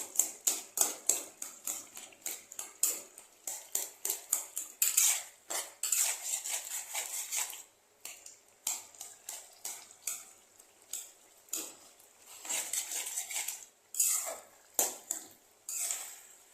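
A spatula mashes and softens cooked potatoes in a pan, making rapid rhythmic metallic clinks and scrapes that pause now and then, over a faint sizzle, close and without any voices.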